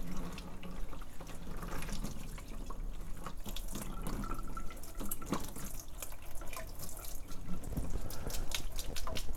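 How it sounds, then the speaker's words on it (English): Hot water poured onto frozen spinach while making vegan lasagna, a steady close splashing and trickling stream with faint drips, with no talk. "I'm gonna take some of the hot water and pour it on"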